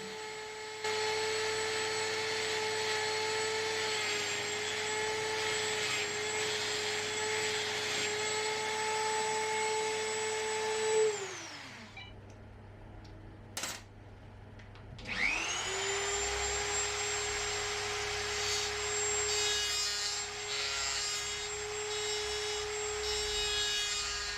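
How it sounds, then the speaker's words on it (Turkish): A Dremel rotary engraving tool with a grinding stone runs at a steady high whine against a workpiece, spins down to a stop, then spins back up and keeps grinding. "Önce kaba taşlama ardından ince taşlama yaparak hücre kalitesinin nasıl arttığını görmenizi istiyorum"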